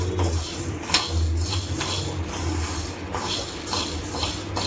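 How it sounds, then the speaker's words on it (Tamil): Black urad dal roasting in a pan, with a steady dry rattle and repeated metallic scraping clinks from stirring, close and fairly even throughout. "ஒரு பேனில் முதல்ல கருப்பு உளுந்தை சேர்த்து நல்லா வறுபடுற அளவுக்கு வறுத்து எடுத்துக்கோங்க."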